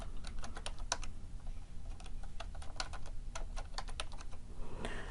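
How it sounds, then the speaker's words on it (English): Password keys tapped out on a computer keyboard in a steady run of clicks with brief pauses, close and fairly quiet, no voices. "Let's type the password."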